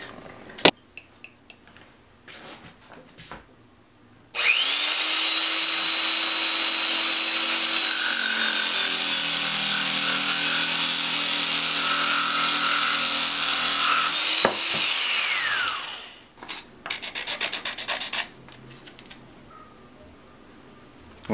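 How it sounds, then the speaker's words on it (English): A power tool cuts through a length of pipe being sized for a homemade shoulder camera mount, a steady loud whine lasting about twelve seconds, preceded and followed by handling clatter. "Now it's time to cut."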